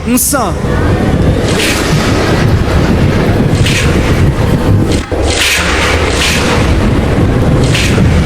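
A played storm sound effect during a church service gives a continuous loud roar of wind and rumbling with occasional booming bursts, dense and close throughout.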